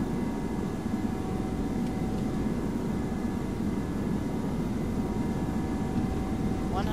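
Airliner engines spooling to takeoff power in the Prepar3D flight simulator, a loud, steady jet roar with a high whine that holds constant throughout, with no voices.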